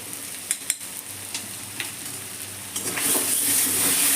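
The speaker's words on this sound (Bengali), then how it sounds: "ভালো করে নেড়ে নেবো" Egg and potato curry sizzling in a pan while being stirred, with soft scraping clicks of the spoon over a steady frying hiss that grows louder toward the end.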